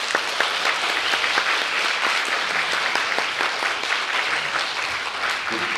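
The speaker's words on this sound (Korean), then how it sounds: "하나님께 영광의 박수 드립니다" Congregation at a Korean church seminar giving a round of applause to God: dense, continuous crowd clapping, loud and sustained throughout with no break.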